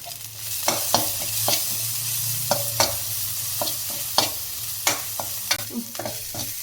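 Crushed ginger and garlic stirred in a frying pan for a country-chicken fry, with a steady low sizzle under repeated sharp scrapes and clinks of a spoon against the pan, close and fairly loud.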